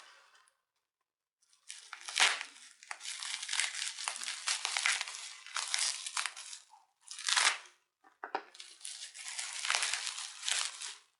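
Continuous crinkling and rustling of bubble wrap packaging being pulled open and handled up close, in long bursts with brief pauses.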